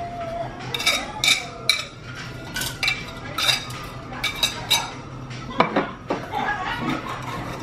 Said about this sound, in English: I'm gonna mix everything up in this bowl